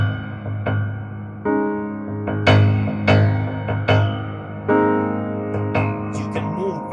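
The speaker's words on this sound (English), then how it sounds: "damping the string with your finger sounds like this" Plucked string notes damped with a finger, a series of short muted plucks in an uneven rhythm, each quickly choked off with a dull, thudding tone, close and moderately loud.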